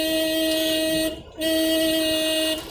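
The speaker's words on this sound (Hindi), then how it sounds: "हॉर्न दोगे थोड़ी बहुत साइड मिल जाएगी" A car horn blares in two sustained honks separated by a short gap, loud and close.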